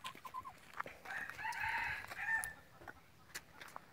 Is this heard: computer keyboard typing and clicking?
no